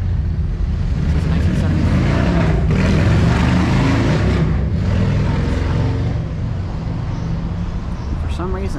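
Steady loud traffic roar from cars passing on a busy street in Ybor City, Tampa, broadband rumble throughout with a voice faintly mixed in.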